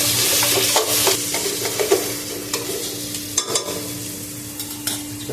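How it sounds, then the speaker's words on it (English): Food cooks down in a pan over a steady, continuous sizzle and frying hiss, with occasional stirring scrapes and soft clinks standing out near and clear, no talk. "So I'll cook this down for a couple of minutes"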